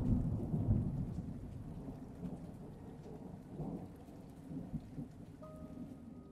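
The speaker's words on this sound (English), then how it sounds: "a great storm arose" A thunderstorm with steady heavy rain and deep rolling thunder, loud and continuous throughout, with low rumbles swelling and fading under the downpour.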